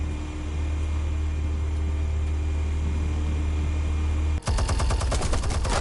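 A weapon fires in a Batman game on PS5: a steady mechanical drone holds for several seconds, then a sharp loud burst breaks in and is followed by rapid repeated shots near the end.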